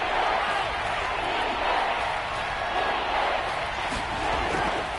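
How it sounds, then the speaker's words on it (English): A football crowd inside a domed stadium keeps up a loud, steady, unbroken roar throughout. "The crowd here in the Dome making things difficult."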